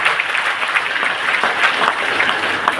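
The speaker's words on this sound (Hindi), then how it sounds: "जो भी लोग बताए हैं उनके लिए ज़बरदस्त ताली होना चाहिए" An audience claps vigorously and steadily, a dense, loud wash of applause filling the room without pause, with no clear voices above it.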